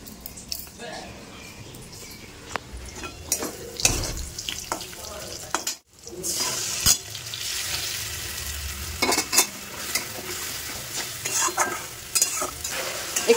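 Bought mustard paste and spices frying in oil in a home kitchen pan for a Bengali fish curry, a steady sizzle broken by spoon stirring and scraping knocks, close, with a voice talking over it.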